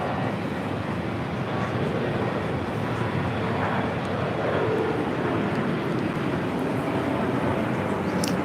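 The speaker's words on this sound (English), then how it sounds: "Finnair Flight 15 A330-300 coming in from Helsinki." A Finnair A330-300 arriving at JFK from Helsinki sends a continuous, fairly loud jet rumble and rushing roar across the whole stretch, holding steady without pause.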